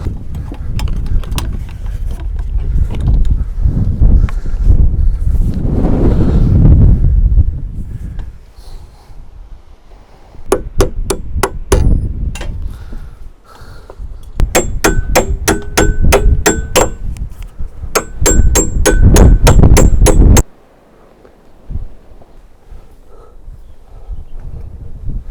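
Nails are driven into wooden roof rafters on a tiny home being built in Iceland, with bursts of rapid, sharp hammer strikes ringing out close by amid wind noise and some handling.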